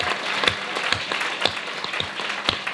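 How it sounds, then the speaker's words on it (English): A graduation ceremony audience claps for students being awarded degrees, a steady, moderately loud patter of many hands lasting a few seconds. "Okay, a collective applause for these students."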